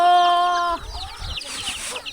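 Chickens cluck and squawk in a Thai mountain village, a rooster crowing briefly at the start, followed by a busy flock of overlapping clucks nearby.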